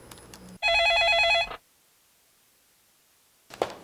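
An office telephone in a lawmaker's workplace rings once in a short electronic burst lasting about a second, followed by silence and a faint sound near the end.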